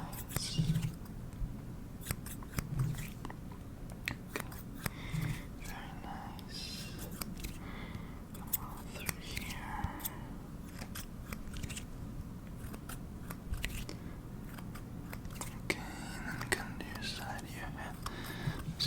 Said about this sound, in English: I'm just gonna come with my fingers here, snip a little off the sides.